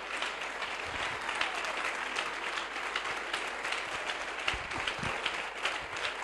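Sustained applause from a church congregation, dense and even clapping throughout with no pauses.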